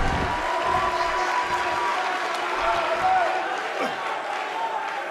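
Arena crowd in WWE 2K18 roaring and cheering steadily for a Seth Rollins vs Big E NXT Championship Tournament match, a dense sustained wash of noise with faint commentary-like voices mixed underneath.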